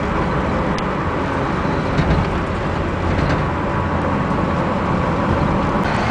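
Steady, loud road roar from inside a ute on four-wheel drive tyres cruising along a main road, with constant engine and tyre rumble and faint knocks as it bounces.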